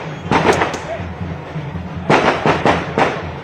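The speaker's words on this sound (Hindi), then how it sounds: "अनूप जी, जीत का जश्न, पटाखे, रंग, होली, दिवाली सब एक साथ मनाए जा रहे हैं बीजेपी दफ्तर के बाहर।" Firecrackers pop in short sharp bursts outside the BJP office in Delhi during an election victory celebration, a few cracks early and a rapid cluster later, close and loud over crowd noise.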